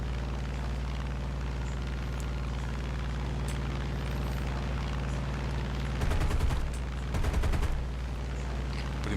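An F4U-1a Corsair's guns fire in War Thunder, two short rapid bursts a second apart over a constant droning engine, loud and close.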